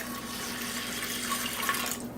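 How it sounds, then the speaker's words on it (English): Water poured into a large saucepan of drained sushi rice, giving a steady, fairly quiet rushing pour that holds evenly throughout with no talk. "I put my drained sushi rice into a large saucepan and now I'm going to add my water."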